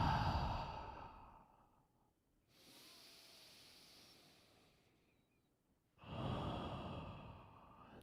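Slow, deep breathing during a yoga flow: a long airy open-mouth exhale, a quieter inhale, then another strong breathy release, soft and close with no words.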